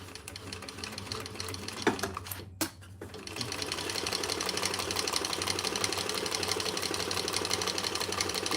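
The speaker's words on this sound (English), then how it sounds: "Just sew it across the top, then we'll turn it top stitch." Sewing machine running a seam across waterproof canvas for a divided basket, a steady whirring stitch that starts after a brief pause and keeps going close and clear.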